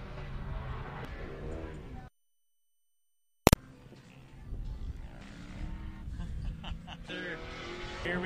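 Drift cars in a tandem battle at Drift Colorado 2018 Round 1 roar and whine at a distance under a commentator's voice, with a brief silent dropout partway through before the engine noise and talk return.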